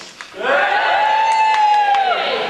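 Pantomime audience at a student panto of Peter Pan cheering: a crowd bursts into loud sustained cheering and whooping for about two seconds, with a prominent high shout riding over it.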